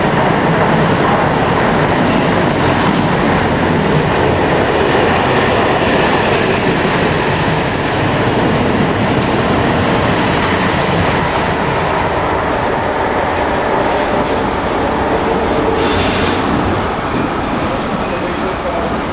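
A Class 43 train heading for Paddington roars past close by, a loud continuous rumble with rhythmic clatter of wheels on rails throughout.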